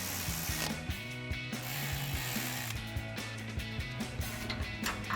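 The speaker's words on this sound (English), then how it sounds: "And then we'll tighten those up with a 10mm socket." A ratchet with a 10mm socket rapidly clicks while tightening brake line connections on a Jeep Gladiator JT during a leveling kit install, a steady close metallic ratcheting that runs the whole time without talk.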